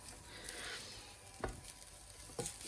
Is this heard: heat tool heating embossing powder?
no